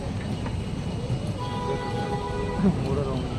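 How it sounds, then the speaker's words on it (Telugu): A small amusement park ride train rolls past with a steady rumble and faint rail clatter, a constant mid-distance drone under a busy crowd, with people talking nearby. "మళ్ళీ వస్తుంది ట్రైన్"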